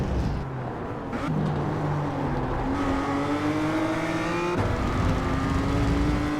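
Race car engine in a racing video game, a steady loud drone with pitch rising through the gears and dropping at shifts, alone without talk.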